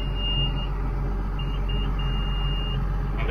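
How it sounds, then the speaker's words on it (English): Ag Leader InCommand 800 display buzzer at power-on inside a Rogator 1254 cab, a shrill, steady electronic tone that sounds once, then returns in several short bursts and a longer one over a constant engine hum. "And a very annoying buzzer."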